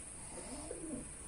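Pigeons give a single soft, low coo, faint and somewhat distant against quiet background noise.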